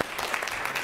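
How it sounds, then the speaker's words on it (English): Applause at a meeting, a brief burst of crowd clapping heard as dense patter with no voices over it. "let's have a round of applause for James."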